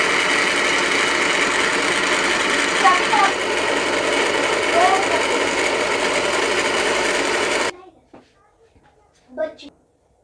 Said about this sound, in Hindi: अब जी हम इसको ब्लेंड कर लेंगे